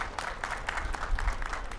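Applause from an audience at an art exhibition honoring artist Mahbubur Rahman, staged in a fire-damaged building that had been attacked. Steady, dense clapping fills the whole short stretch at moderate loudness, with no voices over it.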